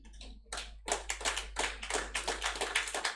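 Audience at a leadership conference breaking into a standing ovation, with a burst of claps that swells into steady, dense applause continuing throughout.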